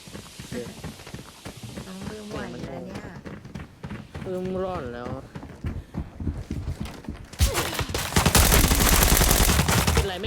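Gunfire in the shooter game Arena Breakout: rapid shots from a VSS rifle crackle through a busy stretch with talk and music, ending in a loud, dense burst of fire at the close.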